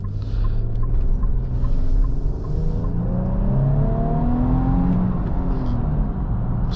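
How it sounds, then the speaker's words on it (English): Exhaust of a 2025 Infiniti QX80 SUV rises steadily as it accelerates through a turn, a continuous low drone climbing in pitch, heard from inside the cabin with no talking. "see if we can get a little bit of exhaust sounds on this turn here"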